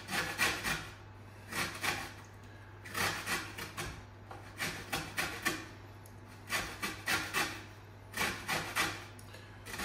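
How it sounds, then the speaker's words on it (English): Lemon zest being grated from four lemons, a repeated scraping rasp in rhythmic bursts of strokes, close and fairly quiet over a steady low hum, with no talking. "Okay, so we're gonna take the zest of the 4 lemons into there."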